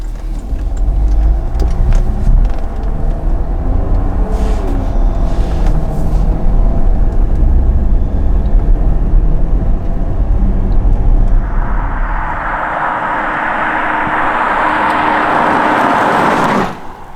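A Porsche out on a test drive, its steady engine drone and road rumble continuous and close inside the cabin, with a broad whooshing wind or road roar swelling near the end.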